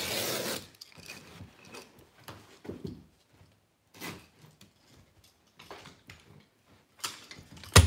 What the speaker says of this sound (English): Just making little cuts around my doorways. And trim this down just a little bit